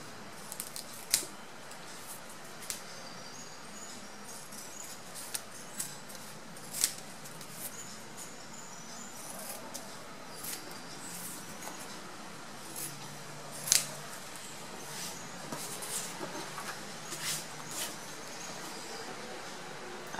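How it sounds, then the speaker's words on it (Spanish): Scissors snip through a square of foam or vinyl sheet for a craft bow, giving a string of short, faint, close cuts at irregular intervals over quiet room tone. "aquí vamos a cortar lo que es el cuadrado de la misma medida para armar el moño de punticas"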